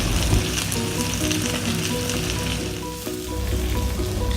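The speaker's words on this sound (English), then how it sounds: "Saute the onion until it's light brown." Chopped onion and bay leaves with celery seeds fry in hot oil in a pan, giving a steady, close sizzle and crackle that runs throughout without any talk.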